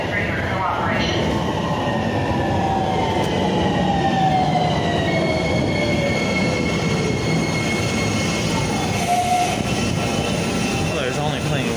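Steady rumble and rattle of a moving train interior, with squealing wheel tones rising and falling over continuous loud noise.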